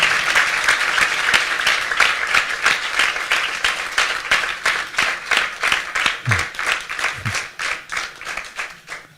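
Audience at a spiritual gathering applauding loudly, with many hands clapping in a fast, roughly rhythmic unison pattern of distinct beats that continues throughout.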